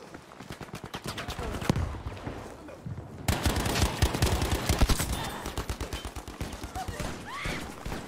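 Rapid automatic gunfire in Battlefield V, an STG 44 rifle firing in repeated fast bursts that continue throughout, loud and close, with a sharp jump in intensity partway through.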